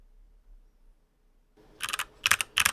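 A burst of computer keyboard typing in a video game's DOS- or Linux-style terminal, with three quick clusters of sharp clicks after a near-silent start.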